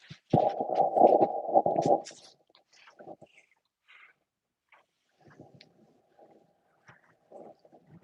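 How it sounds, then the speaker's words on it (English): Wind gusts across an open outdoor fishing spot in cold weather and buffets the microphone in a loud rush lasting under two seconds. Scattered fainter gusts and small knocks follow through quieter stretches. "Here comes that wind."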